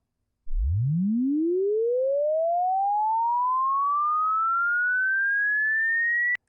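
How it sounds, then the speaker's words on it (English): A pure sine test tone from an online hearing test sweeps steadily upward in pitch from a low hum to a high whine over about six seconds, loud and constant, alone with no voices. "Hit play to begin, and stop when you no longer hear the tone."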